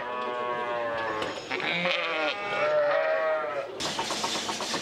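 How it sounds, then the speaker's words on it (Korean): A herd of goats gathered in a barn near Salzburg after feeding, with several overlapping bleats, some drawn out and wavering, against steady barn background noise close by. "식사를 마친 염소떼들이 한 곳에 모여 있는데요."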